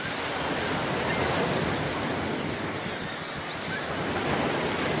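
Steady surf of water waves breaking along a shoreline in the video game Baldur's Gate, a continuous broadband wash that swells and eases without pause, filling the scene with no voices over it.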